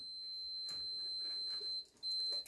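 A multimeter set to its resistance range gives a steady, high electronic continuity tone while its probes test shorted cables on a OneWheel XR electric skateboard; the tone holds nearly continuous, dropping out briefly near the end before resuming.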